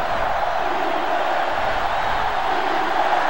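Steady, dense roar of a stadium crowd in a college football video game, South Carolina against Texas Tech, loud and unbroken throughout with no distinct cheers or talk.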